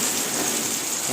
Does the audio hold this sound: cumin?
no